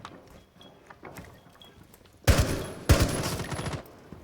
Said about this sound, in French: Là c'est toi qui tires. Je reconnais les bruits de ton arme quand même.